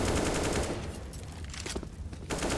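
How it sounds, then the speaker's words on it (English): AK rifle gunfire during a competitive Counter-Strike match, with rapid bursts of shots rattling loudly and almost continuously, dense and close, with no one talking. "Is able to get the AK kill onto Tender"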